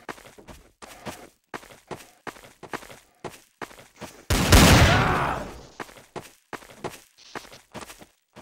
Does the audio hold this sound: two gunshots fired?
yes